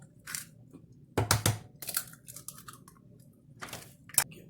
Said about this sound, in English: We're going to crack our eggs.